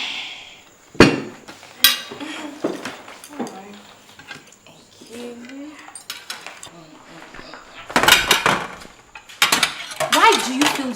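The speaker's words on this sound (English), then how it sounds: "Kiki, do you mind helping me with the dishes?" Plates, pots and cutlery clink and clatter as a table is cleared after a family dinner, in scattered sharp bursts with louder clusters near the end, while people talk in between.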